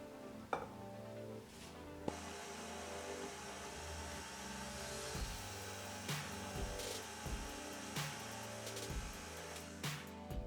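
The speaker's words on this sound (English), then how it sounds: "I'm keeping the mixer on low speed so that I don't overmix the batter here." An electric stand mixer runs on low speed through red velvet cake batter, a steady motor hum with rhythmic paddle knocks and occasional clatters against the bowl, close and continuous without speech.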